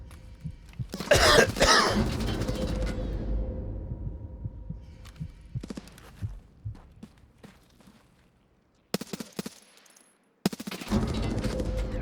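Video game gunfire: close, sharp bursts of rapid shots with clattering impacts, starting with a loud volley, then scattered single shots and brief silences before another burst.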